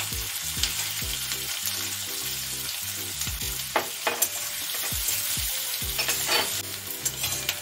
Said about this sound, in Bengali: রসুন একটু হালকা ভাজা ভাজা হলে এবারে পেঁয়াজটা দিয়ে দিচ্ছি।